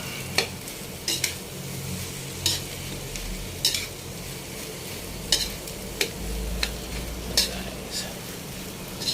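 Sinangag, garlic fried rice, being stirred and fried in a pan, with a steady sizzle broken by regular scraping strokes of a utensil against the metal.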